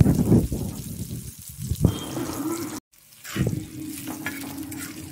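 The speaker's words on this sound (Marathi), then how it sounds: "परत याला थोड्याशा तेलामध्ये अजून फ्राय होऊ द्यायचं आहे." Salted green chillies frying in a little oil, with stirring scrapes and a steady sizzle that cuts out briefly midway before resuming.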